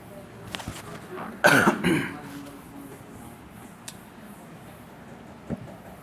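A single loud cough close to the mic during a chemistry lecture, with a few faint clicks and quiet room noise around it.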